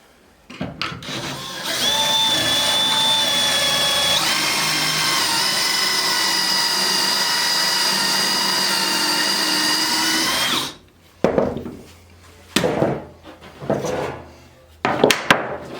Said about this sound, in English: we're just going to put a few screws down through here